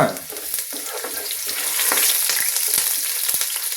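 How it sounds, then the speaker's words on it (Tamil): Chopped onions sauté in a pan, giving a steady, bright sizzle broken by occasional scraping stirs, close up and without any talking. "வெங்காயம் வதங்கட்டும்"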